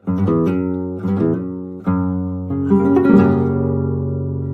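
Bright flamenco nylon-string guitar phrases, with quick plucked notes, slurred note changes and snapped pull-offs, close and clear, ending on a ringing chord.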